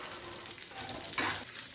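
Peanuts sizzling and frying in a little oil in a pan with red chillies, a steady broadband crackle throughout, close and fairly loud, with a brief louder burst of stirring near the end.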